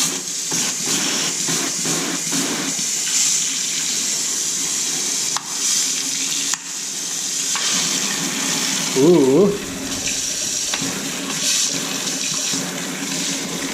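Water spraying and splashing from a modified drain siphon, a steady hissing flow with a few sharp knocks and clicks, and a brief hummed vocal sound partway through.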